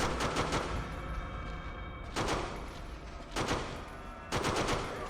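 Gunfire in the horror game Forbidden Siren 2: loud, close bursts of shots in several separate volleys, each a dense rattle that cuts off sharply.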